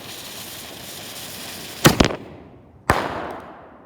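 A homemade micro aerial shell firework with flash powder goes off as a sharp double crack followed by a second loud bang a moment later, each trailing off quickly over faint background noise.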